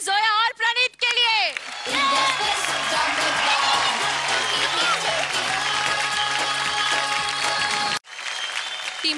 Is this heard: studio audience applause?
yes